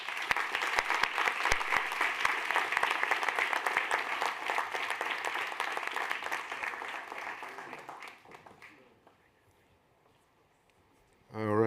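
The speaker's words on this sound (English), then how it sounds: "let's give all teams a big round of applause as they did an incredible job" Audience at a startup demo day event applauds the teams, with sustained dense clapping that fades out over several seconds before a brief voice at the end.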